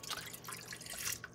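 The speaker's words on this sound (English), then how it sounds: "I don't know how much water he's putting in there" Water runs and splashes as it is poured into a food steamer in a home kitchen. The stream is short, close and fairly quiet.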